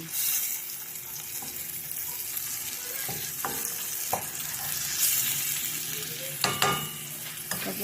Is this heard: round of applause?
no